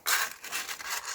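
Steady, rough scraping strokes of sandpaper rubbing against a scooter's brake lining, close by, with a rhythmic back-and-forth texture and no talking.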